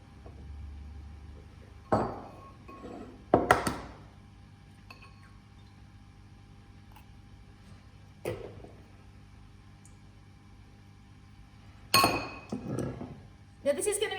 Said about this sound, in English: we're going to crack one egg